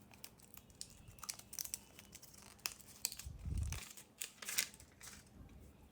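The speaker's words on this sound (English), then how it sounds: "Just quickly unwrap it and let's check what's inside." Packaging for a new HolyLand Lark M1 wireless mic is unwrapped close up: quiet crinkling and tearing of plastic wrap with scattered sharp snips and rustles, faint and irregular, no talking.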